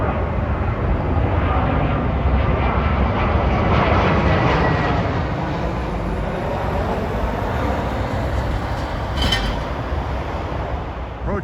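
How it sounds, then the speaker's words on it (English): An Airbus A320 airliner passes overhead on approach toward JFK near the Rosedale railroad station, a loud, broad, continuous jet roar that swells and then slowly fades, heard alone without talk. "This plane is an Aviation A320 from San Salvador to JFK."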